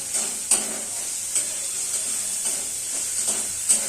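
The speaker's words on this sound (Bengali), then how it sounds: "আর অল্প একটু চিনি দিয়ে আমি এগুলো আবার ভালো করে মিশিয়ে নেব" Vegetables in a pan are stirred with turmeric, salt and sugar, a low steady sizzle broken by several distinct scraping strokes of a spatula at irregular intervals.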